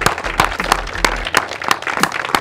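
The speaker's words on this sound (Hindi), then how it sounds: "तालियों की गड़गड़ाहट के साथ" Audience applause greets the comedian Bholu as he arrives at a comedy sketch, with dense, steady clapping from a crowd and a few sharper claps standing out.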